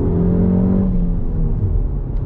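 Peugeot 308 GTI engine running with a steady, loud low rumble and faint tonal whir, slightly varying as if lightly revved, close and continuous with no voices.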